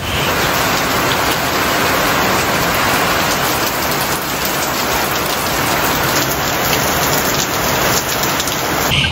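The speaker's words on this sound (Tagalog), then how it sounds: "walang tigil ang buhos ang ulan" Heavy, steady rain pours without letup in Mindoro, Philippines, a dense continuous hiss that stays loud and even throughout.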